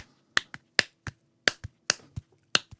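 Sharp, dry offbeat percussion hits for an Afro House groove, eleven crisp snap-like strikes in a steady syncopated pattern, close and clear over a faint low hum, with no talking.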